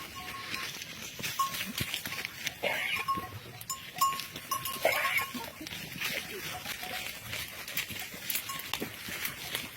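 Goats grazing on wet hillside scrub bleat now and then amid a busy outdoor wash of rustling and small knocks, while people talk nearby.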